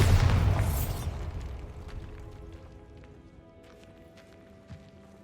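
A Bombarda blasting spell in Hogwarts Legacy bursts in a loud, close explosion, then its rumble and debris fade slowly into quiet echoes.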